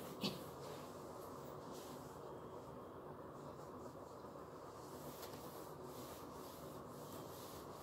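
A dirty classroom board being rubbed clean, a faint continuous scrubbing and rubbing noise with a brief knock near the start, no voices.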